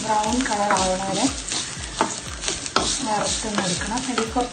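Dried sardines fry in a pan with okra, giving a steady close sizzle broken by the repeated scrape and clatter of a spoon stirring against the pan.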